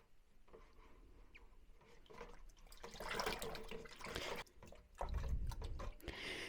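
Hard well water sloshes and swirls as soap is stirred into it, a continuous watery churning that grows louder midway and again near the end, with no speech.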